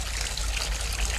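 Sound effect of a long urination: a continuous, even stream of liquid splashing and trickling, steady and moderately loud, with no break or voices.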